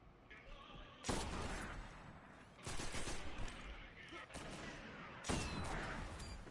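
Auto rifle fire in a competitive Trials match of an online shooter, three loud sustained bursts of rapid shots separated by short gaps, with game sound and faint voices underneath.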